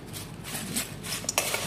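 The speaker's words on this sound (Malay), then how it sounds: "gaul dengan bawang goreng, daun kari dan cili kering" Banana chips tossed with curry leaves, dried chilli and fried shallots in a bowl, a brief soft clatter of utensil against dish with dry rustling, faint and close.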